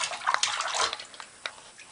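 A dog splashes and plays in water, throwing up a quick cluster of close, bright sloshes and splatters, then a few scattered drips and smaller splashes, with no talking.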